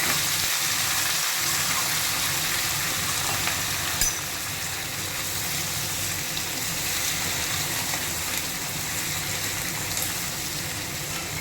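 Potato and bottle gourd fry in a hot kadai without any tempering, giving a loud, continuous hissing sizzle close by, with a faint knock near the start.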